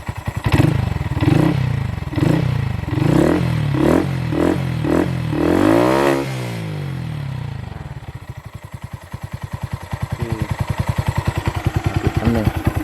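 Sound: Honda Monkey 125 motorcycle engine revving

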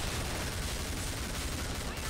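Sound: gun firing continuously in Killing Floor video game

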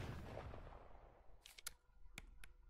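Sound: gunshot in a video game

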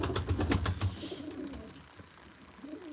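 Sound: young pigeons cooing at a pigeon auction

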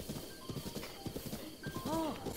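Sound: horse hooves clip-clopping in a Nintendo Switch video game

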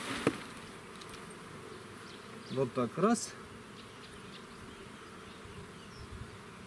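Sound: honey bees being shaken into a hive

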